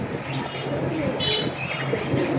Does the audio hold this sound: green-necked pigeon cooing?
yes